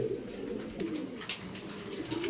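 Black racer pigeons, a long-distance racing breed, coo in low, steady rumbling calls close by, with a busy, noisy background running under them throughout.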